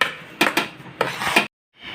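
Mango ladoo mixture being stirred in a pan, a few short scraping rubs of spoon against metal in quick pairs, close and clear, followed by a brief pause before scraping resumes.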